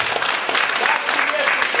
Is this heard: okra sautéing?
no